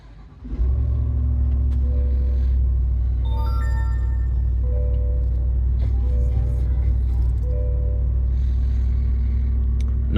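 A 2025 Chevrolet Tahoe Z71 engine starting by push button: a quick crank, then a steady, loud low idle rumble that continues throughout.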